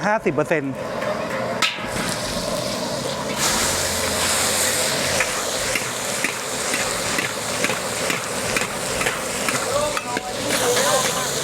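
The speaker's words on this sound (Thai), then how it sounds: "เดี๋ยวเราจะผัดถั่วงอกนะครับ" Bean sprouts stir-fried in a hot pan for a Thai banquet dish give a continuous loud sizzle with scraping stirs throughout, and someone talks over it.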